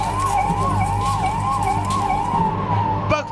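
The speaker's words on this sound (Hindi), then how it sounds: "सेना की गाड़ियों के सायरन की आवाज" A loud, close army vehicle siren during a mock drill wails in quick regular up-and-down sweeps over engine rumble, cut off abruptly near the end.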